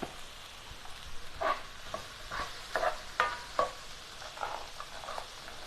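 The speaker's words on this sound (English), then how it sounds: "I'm going to just stir this up a little bit" A spoon stirs a tomato-based Mediterranean stew in a pot, making several soft scraping and sloshing strokes over a low background sizzle, moderately close and without talk.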